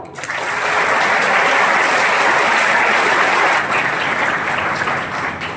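Students applaud loudly at the start of a motivational session, a dense sustained burst of clapping that swells quickly and holds strong for several seconds before tapering slightly.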